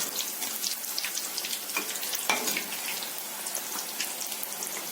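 Maida flour karam chekkalu frying in hot oil give a steady, fine crackling sizzle with scattered pops and light bubbling, fairly soft and continuous throughout, with no voices.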